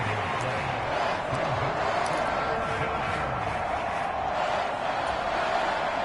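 A stadium crowd in the Madden 24 football video game cheers in a steady, broad roar that fills the whole clip, with no talk in it.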